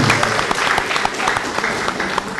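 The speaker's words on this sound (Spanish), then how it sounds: "Fuerte las palmas, señoras y señores." An audience claps loudly and continuously at a university award ceremony, a dense roomful of hands with no break.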